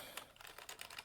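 Quick keystrokes on a computer keyboard, a run of light irregular clicks close by and quiet, no talking.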